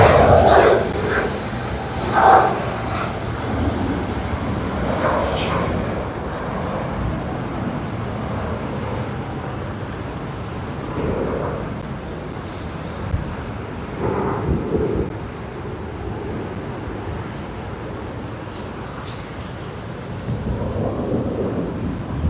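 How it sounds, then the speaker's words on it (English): A Delta Airbus A350-900 begins its takeoff roll at Sydney Airport, a broad, steady engine roar heard from a distance with gentle swells, while people talk nearby throughout. "DL42, the one we were waiting for this long, has finally begun its takeoff roll"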